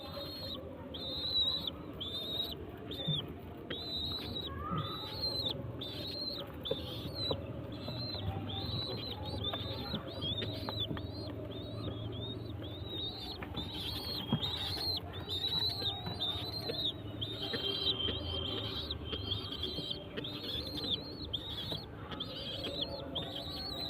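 Pigeons coo repeatedly at close range while a mother pigeon feeds her chick, a steady run of soft calls over a faint background murmur.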